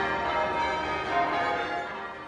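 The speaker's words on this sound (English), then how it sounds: "church bells ringing out across Charleston, South Carolina" Church bells ring out across Charleston, South Carolina, at Emanuel AME Church on a Sunday morning of mourning, a steady sustained bell tone holding throughout and slowly fading toward the end.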